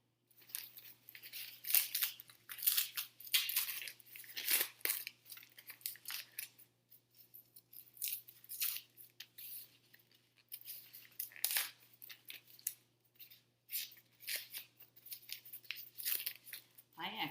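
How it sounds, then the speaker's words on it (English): Scissors snip and crunch through paper wrapped around a taped object, heard as close irregular cuts and crinkling tears in uneven bursts with quiet gaps between them. "before I keep cutting or tearing off the paper"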